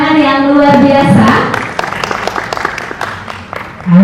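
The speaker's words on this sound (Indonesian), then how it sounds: "Boleh kita beri tepuk tangan yang luar biasa." Applause breaks out at a slow-fashion press conference after a tonal musical swell fades, with scattered clapping of moderate density, loose and uneven in rhythm, dwindling toward the end.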